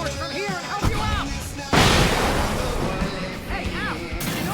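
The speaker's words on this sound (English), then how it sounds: "I can set off more of the fireworks from here and help you out!" Fireworks explode in the video game Alan Wake, a sudden loud blast and crackling burst amid game voices and combat noise.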